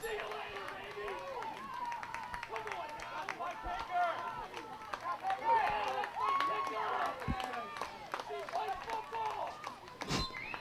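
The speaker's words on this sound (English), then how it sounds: "crowd yelling, "She plays football."" Spectators cheer and shout at a girls' high school soccer playoff match, a busy crowd roar with scattered shouts and claps continuing steadily throughout, with a burst of noise near the end.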